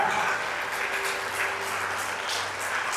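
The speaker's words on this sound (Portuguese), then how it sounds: "Aplauda o Senhor" A church congregation claps in praise to the Lord, a steady dense wash of applause filling the room, with a faint voice and low hum underneath.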